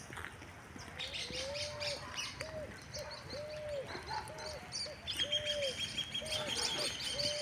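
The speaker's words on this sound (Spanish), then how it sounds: "Espero que se escuche el sonido de los pájaros" Small birds chirp and call repeatedly, soft and somewhat distant, amid quiet outdoor ambience on a nature walk in Pinamar, Canelones, Uruguay, with several short tweeting phrases and a brighter whistled call toward the end.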